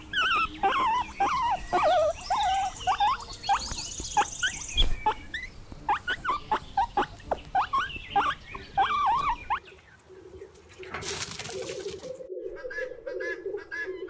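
A guinea pig gives a rapid series of high, repeated squeaks and chirps that carry on for several seconds, followed by a lower, steady hum.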